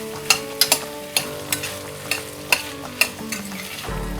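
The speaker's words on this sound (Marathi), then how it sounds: "आता गॅसची फ्लेम मी मीडियमवर करतेय आणि या भाज्या छान परतून घ्यायच्या." Cauliflower and green beans sauté over a medium flame for veg pulao, with a soft sizzle under quick, sharp spatula scrapes and taps that repeat roughly every half second, close and clear.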